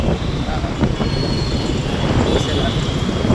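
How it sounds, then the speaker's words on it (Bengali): A metro train rumbles past near Jatindra Mandir metro station by Kishore Bharati Stadium, a loud continuous roar with faint wheel squeal. It is heard from a small two-wheeler moving through traffic, with voices nearby. "এই পাশে মেট্রো"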